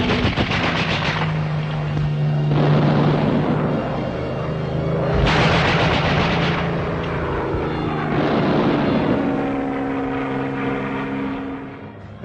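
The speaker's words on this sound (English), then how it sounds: "German anti-aircraft gunners are opening fire." German anti-aircraft guns fire at RAF bombers during the wartime Eindhoven raid on the Philips works, distant thudding gunfire and bursts under a steady droning aircraft engine roar, with no voices.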